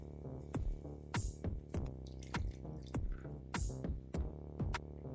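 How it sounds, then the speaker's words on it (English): Apple cider vinegar is poured over ingredients for homemade fire cider, giving a series of close, irregular liquid drips and plops with short pauses between them. "we're going to take the apple cider vinegar and just pour it on top."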